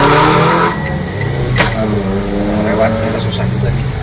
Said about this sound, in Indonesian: lewat kita susah juga nih, ada mobil depan.